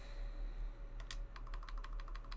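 Quick keystrokes on a computer keyboard, a brisk run of close clicks over a steady low electrical hum, with no voices.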